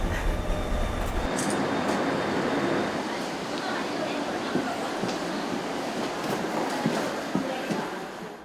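Interior of a moving Korean S-train: a steady loud rumble of wheels on rails with faint clicks and rattles, a continuous ride noise with voices mixed in.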